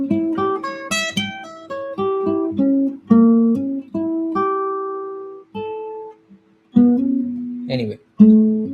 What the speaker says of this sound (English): A pure diminished seventh arpeggio would sound like this.